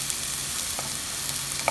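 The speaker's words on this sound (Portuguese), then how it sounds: "já tá fritando. Dourando todo já." Steady sizzling of meat frying in a pan, a continuous crackling hiss with a few sharper pops, close by and with no voices.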